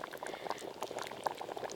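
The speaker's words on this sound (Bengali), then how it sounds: "ঝোল তো একদম টকবকে হয়ে ফুটে গেছে।" A pot of thin fish curry broth boils on the stove, giving soft, steady, close bubbling and popping for a couple of seconds.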